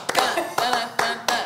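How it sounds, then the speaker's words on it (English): A few people clap in quick, uneven bursts, close by, with faint voices in the background. "Y'all just clap it up."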